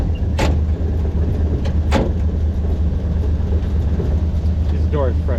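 Two solid thuds of a 1969 Jeep CJ5's door being shut, a second or so apart, over a steady idling engine hum.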